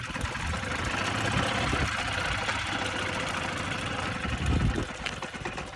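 Puch E50 moped engine running on a test ride, a steady close buzzing drone with rough, uneven texture, loud and continuous throughout.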